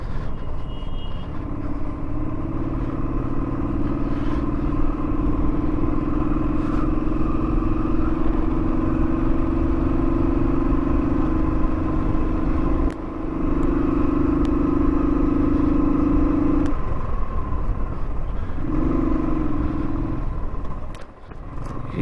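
A motorcycle engine hums steadily along a mountain road toward Darjeeling, its pitch holding through a long pull before a short break and a shifted tone marking a gear change, close and continuous with no talking.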